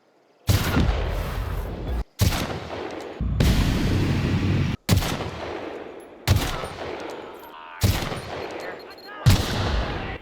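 Rifle fire against marauders in The Outer Worlds, about six loud, sharp shots spaced a second or more apart, each trailing into a long echoing decay, with no talk over them.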